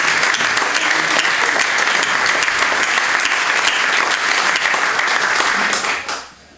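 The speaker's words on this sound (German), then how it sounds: "einen herzlichen Applaus" Sustained applause from a crowd at a political party's New Year's reception in Landau, steady and dense for about six seconds before fading out at the end.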